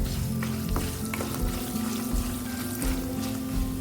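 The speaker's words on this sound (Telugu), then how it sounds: "ఇప్పుడు వీటిని ఫ్రై చేసుకుందాం" Asafoetida, turmeric and salt frying in hot oil for a wood apple pulihora, a steady close sizzle with light stirring and occasional scraping, no voices.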